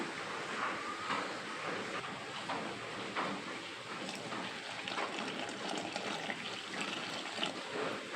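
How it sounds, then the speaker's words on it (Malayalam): Water trickles and splashes softly and steadily into flour for pazham pori batter, a faint pouring sound close by with no voices. "ഇനി നമുക്ക് വെള്ളം ഒഴിച്ച് ഇത് ബാറ്റർ തയ്യാറാക്കാം"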